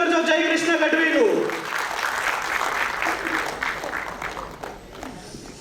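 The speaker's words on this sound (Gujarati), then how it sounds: "જોરદાર તાળીઓથી સ્વાગત કરજો જય કૃષ્ણ ગઢવીનું." An audience at a civic cultural festival in Bhavnagar claps to welcome a performer. A voice opens, then sustained crowd clapping rises and slowly tapers off.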